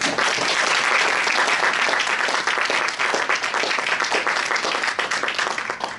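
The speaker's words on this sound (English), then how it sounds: "may we have a round of applause for the processional." Audience at an award ceremony applauding the processional, a dense, steady round of clapping from a large crowd that carries on for several seconds and tapers slightly at the end.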